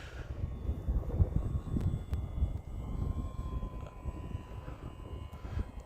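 Electric E-flite T-28 RC model airplane flying a scale roll maneuver outdoors, a steady motor whine with shifting pitch over continuous wind and field rumble, moderately distant throughout.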